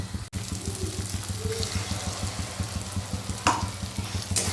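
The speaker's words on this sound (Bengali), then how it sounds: "আবারও 1 মিনিট থেকে 2 মিনিট মতো আমি কিন্তু এটা কষে নেব।" A cashew and poppy seed paste sautés in a pan for paneer curry, giving a steady sizzle with soft stirring and scraping, under a low continuous hum and a few sharp clinks near the end.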